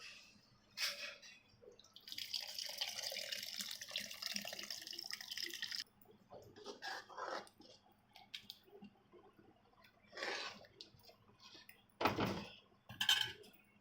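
Water is poured into cooking sambar, splashing and trickling in uneven bursts, with a steady pouring stretch early on followed by scattered splashes and clinks, close by.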